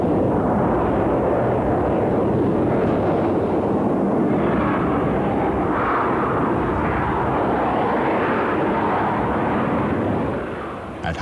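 A Dassault Rafale fighter jet makes a slow, low flypast, its engines giving a loud, steady broadband roar that holds for several seconds before easing off at the end.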